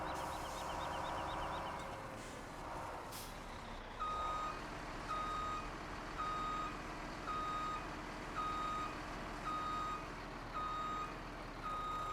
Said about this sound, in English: We shouldn't have any trouble connecting this truck here.